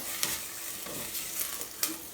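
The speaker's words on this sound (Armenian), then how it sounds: "էսի թող մի քիչ սենց տապակվի" Food frying quietly in a pan, a soft steady sizzle broken by a few sharp crackles and pops.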